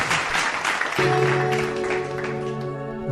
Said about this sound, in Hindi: जोरदार तालियां महेंद्र कपूर साहब के लिए।